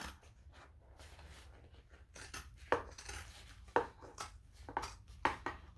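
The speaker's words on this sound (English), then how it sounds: "Grab some scissors and start chopping." Scissors trim excess fabric while sewing a date night clutch bag, giving several sharp, close snips spaced roughly a second apart over a quiet background.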